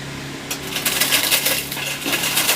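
Lays potato chips crushed by hand, a dense crackling crunch that starts about half a second in and keeps going in close, loud bursts over a low steady hum.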